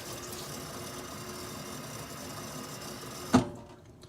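Hot tap water runs steadily from a faucet at a hand-washing sink, a continuous broadband splash that stops abruptly with a brief clunk near the end as the handle is turned off, leaving quiet.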